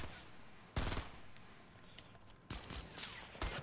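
Sniper rifle shots in Fortnite, a few sharp, loud single cracks spaced apart with quieter game noise between them.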